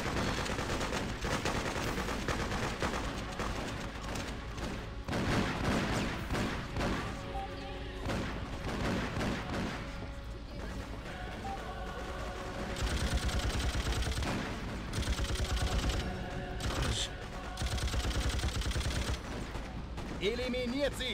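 Rapid bursts of automatic gunfire and scattered shots crackle through a chaotic battle in the video game Freedom Fighters, loud and near, with someone talking over the shooting.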